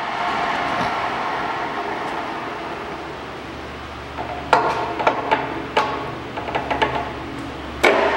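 A Fosdick radial arm drill runs its spindle at 250 RPM, giving a steady low mechanical hum with a series of sharp metallic clanks and knocks in the second half.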